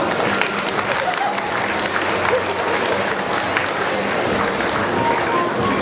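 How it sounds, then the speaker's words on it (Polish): Sustained applause from a school audience at a Polish high school ceremony honouring the third-year graduating class, steady dense clapping filling the hall with a murmur of crowd noise underneath. "klasa trzecia i wielkie brawo"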